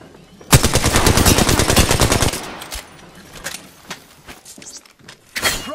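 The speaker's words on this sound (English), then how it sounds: "Getting shot at." A burst of rapid automatic gunfire in Apex Legends rattles loudly for nearly two seconds, followed by quieter scattered shots and clicks.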